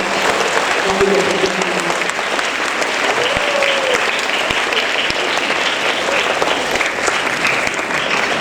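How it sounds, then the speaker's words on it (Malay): Steady, loud applause from a school audience for the PTA and board of governors at a school ceremony, a dense clapping crowd that continues without break. "Berikan tepukan kepada lembaga pengelola."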